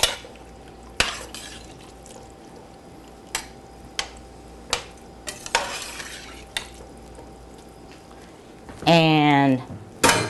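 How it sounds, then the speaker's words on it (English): A spoon stirs food in a pot on the stove after fresh ground pepper goes in, giving sharp, spaced knocks and scrapes against the pot, with a person speaking briefly near the end. "Give it another stir."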